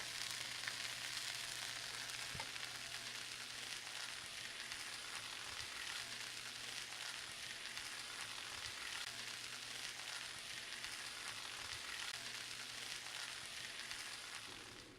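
Filet steaks frying in a pan with butter and garlic puree give a steady, even sizzle that hisses continuously and fairly quietly, with no talking over it.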